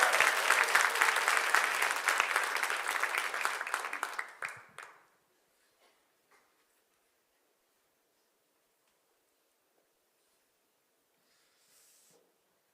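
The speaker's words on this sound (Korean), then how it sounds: "큰 축복 박수 한번 부탁합니다." A church congregation gives a big round of applause, dense and fairly loud for about four seconds, then fades quickly and leaves near silence with a few faint small noises.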